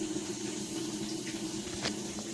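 Water leaks from a Whirlpool washing machine whose drum is not holding water and runs along an alley into a drain. It makes a continuous, even rushing trickle throughout, with faint clinks in the background.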